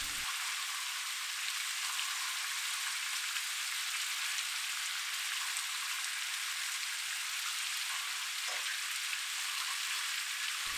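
Eggs poured one at a time into a hot pan of shakshuka (eggs in hell) sizzle and fry in a steady, close, even crackle that lasts throughout with no talking.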